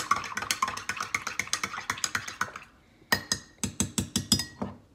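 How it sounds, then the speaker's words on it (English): A little spoon mixes something in a glass or mug at home, producing rapid, regular clinking taps that run steadily, pause briefly, then resume in a brisk, bright series close to the listener. "A little spoon. We gotta mix her up."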